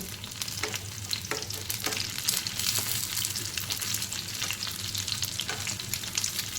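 Stuffed green chilies sizzle steadily in a covered pan, a continuous close frying hiss with occasional soft clicks and scrapes, no voices present.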